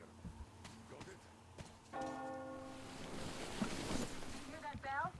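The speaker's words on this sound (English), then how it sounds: "Hear that bell?" A bell rings within the Metro Exodus game world, its tones standing as a set of sustained, ringing partials near the middle of the clip against a low background rumble, with faint voices and other in-game noises around it.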